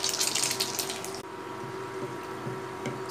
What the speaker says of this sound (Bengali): তেল গরম হয়ে গেছে এবার ধীরে ধীরে মোগলাইটিকে আমি তেলে ঢেলে দিলাম